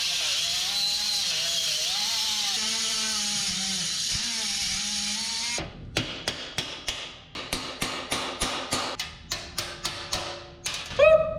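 Grinder running steadily on welds of a Harbor Freight welding cart, a sustained whine for several seconds, then a series of sharp rhythmic hammer-like strikes on metal, close and loud.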